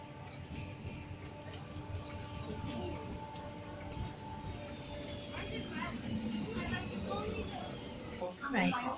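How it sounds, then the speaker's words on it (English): A train pulls into Waterloo station in Liverpool, England, a steady low rumble and faint whine building gradually over several seconds, heard from the platform at a moderate distance with no one talking. "Right, here's my train now."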